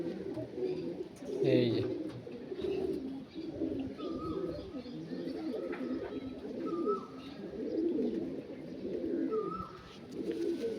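Top-quality pigeons of the Andhra and Arsad line coo repeatedly in a low, rolling rhythm close by, with someone talking intermittently over the birds.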